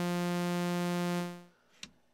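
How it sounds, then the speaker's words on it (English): An ARP 2600 synthesizer's VCO3 plays a sawtooth wave, a bright, buzzy steady tone that holds for just over a second before fading out, with a faint click after. "VCO3, saw wave."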